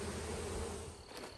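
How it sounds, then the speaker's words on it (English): A swarm of honey bees trapped inside a Tupperware container gives a close, steady droning buzz that holds even throughout and dips slightly near the end. "I think I got the queen because these bees seem pretty calm inside this Tupperware."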